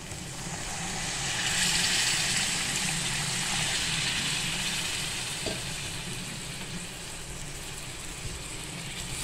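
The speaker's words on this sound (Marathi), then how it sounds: "ह्याच्यामध्ये पाणी ओतणार आहे बरं का" Water poured into fried masala in a hot pan, giving a steady loud sizzle and hiss that swells and then settles, with no voices.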